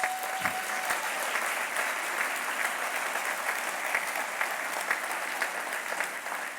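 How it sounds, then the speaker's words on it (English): A large audience at a humanitarian gala applauds continuously, a sustained even wash of clapping that holds steady throughout. "I think we owe them all a big round of applause"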